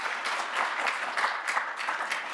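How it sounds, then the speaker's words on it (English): A conference audience applauds steadily to welcome new members at the Skills Alliance annual conference, a dense, even wash of many hands clapping throughout at moderate loudness. "So I think all these new members deserve a huge applause and a huge welcome to everybody."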